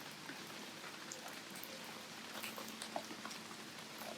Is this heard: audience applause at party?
no